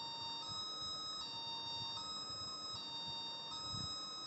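Electric buzzer in a classroom model circuit with its switch closed, giving a steady, bright, high-pitched electronic tone that holds continuously with slight regular pulsing over low background noise.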